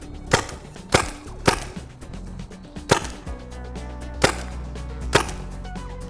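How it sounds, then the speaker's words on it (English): Pink dust bullet-hit capsules fire against a wall in six sharp, loud cracks at irregular intervals, each a crisp snap like a cap gun, with faint clatter and low hum between them. "we're going to be using some of the pink or ready dust hits, and we're going to fire them against the wall"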